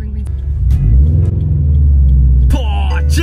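Engine of a manual-transmission car humming and revving steadily as a learner driver works the clutch, loud and close throughout, with a brief higher-pitched sound and voices joining near the end.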